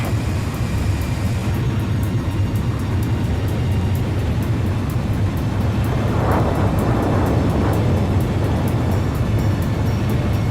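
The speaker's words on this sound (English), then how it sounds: "The transport plane is ready for an emergency landing." A transport plane touches down for an emergency landing on a runway in the Ace Combat 5 flight game, a steady loud engine and airframe roar running throughout with a brief swell of rushing noise midway.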